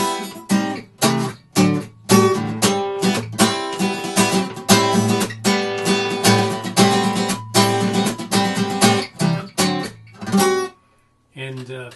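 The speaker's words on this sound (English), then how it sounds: "Measures 12 to 17 feature a lot of rhythmic strumming" Rhythmic strumming on guitar from a song, measures 12 to 17, punchy chord bursts with brief punctuating stops, loud and close, ending in a short pause and a final stab, no talking.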